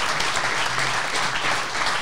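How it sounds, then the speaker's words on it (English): A standing ovation from a live audience fills the space with thick, sustained applause, many hands clapping at once in an even, loud roar. "Everyone's going to give these people a standing ovation"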